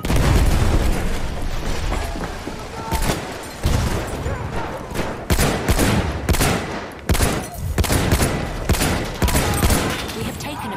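Battlefield 1 combat on the Amiens map, with rapid close gunfire bursts, heavy booms and a grenade blast over a dense, loud battle din; a voice shouts briefly in the mix.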